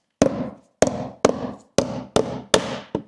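Six sharp hammer taps tapping in wooden window beads, evenly spaced with short pauses between them, close and fairly loud with no talking.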